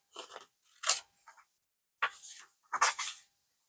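Scissors snip paper for a junk journal, a few close crisp cuts in short bursts separated by brief pauses.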